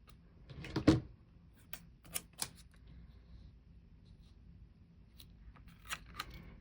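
Scissors trim paper scraps for a planner layout. A few short, faint snips sound close by in a quiet room, with one near the start, a quick pair in the middle and more near the end.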